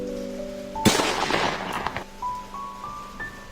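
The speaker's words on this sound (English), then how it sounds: "A deafening gunshot rang through the room." A single loud gunshot-like blast in an indoor room, sharp and sudden, followed by a brief decaying rumble as a steady electronic tone hums beneath and then rises in pitch.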